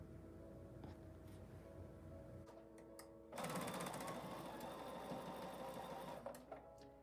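A sewing machine runs steadily, stitching a thin fabric strip onto a quilt block with wonky letters. Its loud, close whirr starts partway through, over a low room hum, and continues to near the end.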